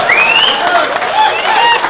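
An audience applauds at a book launch for the megastar Chiranjeevi, a steady wash of clapping from the crowd with voices carrying over it.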